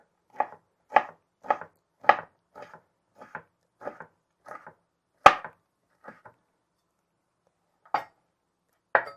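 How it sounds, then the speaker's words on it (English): A knife chops fatty meat on a board for fried rice in a quick run of about a dozen crisp strikes, close and clear, with a few spaced chops after a short pause. "So what you do is you want to chop this up like this."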